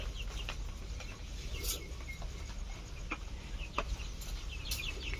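Hens on a dairy farm, clucking faintly and intermittently against a quiet background, with a few soft calls scattered across a few seconds.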